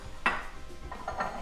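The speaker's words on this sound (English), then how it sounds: "The vegetables are cooking, so I'm going to take them off and place them in a bowl" Cooked vegetables from a seafood stir fry scooped out of a pan into a bowl, two or three close clinks and scrapes of a utensil against cookware over a quiet background, with no talk.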